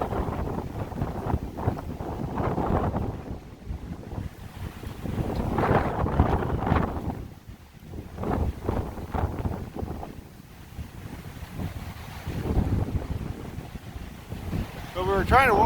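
Strong gusting wind on the Oregon Coast near Sand Lake beach buffets the microphone in heavy, surging roars that rise and fall, with brief lulls between gusts and a voice faintly underneath.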